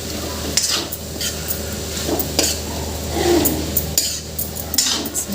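A utensil stirs and scrapes fried lentils and amaranth greens around a sizzling pan, with repeated metallic clinks over a steady frying hiss, close up.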